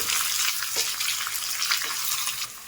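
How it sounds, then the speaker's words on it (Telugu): Chopped onion frying in a pan, a loud continuous sizzle with bursts of crackle, heard up close throughout with no speech. "ఈ ఉల్లిపాయని ఇందులో వేసుకోవాలి. వేసుకొని ఒకసారి అయితే ఇలా వేయించుకుందాం మనం బాగా"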